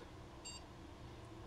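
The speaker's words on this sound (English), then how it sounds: "Beep." A computer lets out a single short electronic beep while resetting, faint and brief over low background hum, with no talk.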